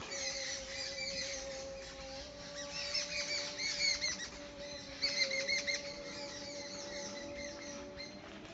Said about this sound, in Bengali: এই যে পাখির কিচিমিচি শব্দ